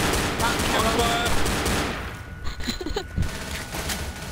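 Pistol shots in Left 4 Dead amid dense zombie-fight gunfire, rapid overlapping bursts giving way to a few sharper separate shots, with someone talking under the noise.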